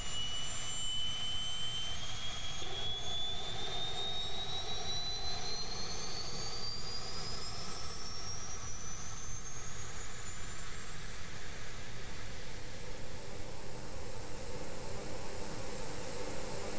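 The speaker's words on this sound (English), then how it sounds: "Oh, what those engines are doing. Wow, they are loud." Jet engines in the game Kerbal Space Program roar loudly and continuously, a dense constant blast with a high whine that climbs steadily in pitch, close and without any talking.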